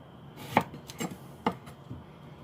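A knife cutting through a vegetable on a cutting board at an angle, producing a few distinct sharp chops about half a second apart, close and clear in a quiet room.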